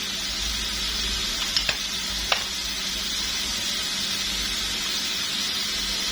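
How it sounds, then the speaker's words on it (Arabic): Chicken sautéing in a pan with black pepper, a steady close sizzle of frying with a few soft clicks of stirring, no talking. "شوح الفراخ كويس جدا"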